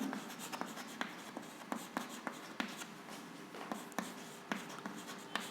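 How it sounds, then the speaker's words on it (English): Someone writes during a Grade 8 maths lesson on comparing quantities, with quiet, close scratchy strokes and light taps in an uneven rhythm. No one speaks. "So let us write here one more time."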